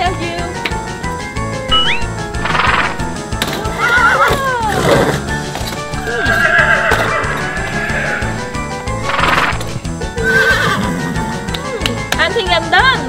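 A horse on a farm whinnies loudly several times with clip-clopping hooves throughout, alongside a voice in the background.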